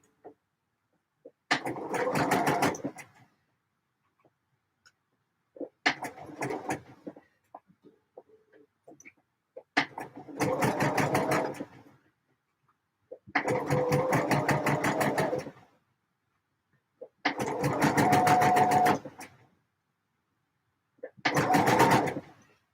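A sewing machine stitches a D&G shirt lining in six separate bursts of rapid mechanical whirring, each a second or two long, separated by short pauses, close and clear.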